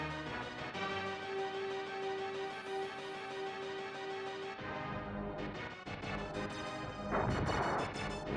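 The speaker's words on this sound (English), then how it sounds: "Hopefully waste all the missiles on this one." Missiles strike a base in the video game Metal Marines, with a sustained tonal hum that gives way to a run of rapid crashing impacts and booming explosions.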